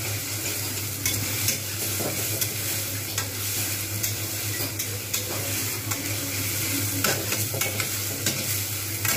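A ridge gourd peel dish fries in oil, a continuous close sizzle with intermittent scrapes and clinks of a utensil stirring in the pan.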